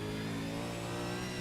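A V8 race car at Sandown powers out of a corner, its engine a steady, harmonic-rich drone heard from the cockpit, loud and continuous with no break.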